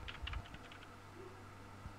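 A quick burst of computer keyboard keystrokes clatters close by in the first half-second, then gives way to a low, steady room hum with only a stray click or two.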